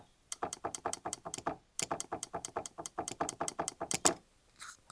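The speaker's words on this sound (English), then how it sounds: "So you want to be checking out for metallic sounds, metal on metal, like so." Saxophone keys pressed in rapid succession give a dense run of sharp metallic clicks, metal striking metal on a worn instrument, close and crisp with a short pause midway, no talking.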